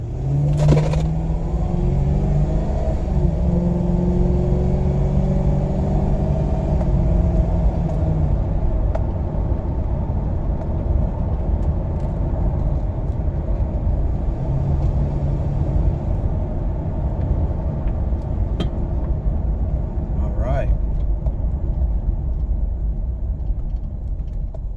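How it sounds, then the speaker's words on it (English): A 2010 Ford Crown Victoria Police Interceptor engine runs steadily with a low rumble throughout, loud and close, with small shifts in pitch and no talking. "I thought you get to hear the engine."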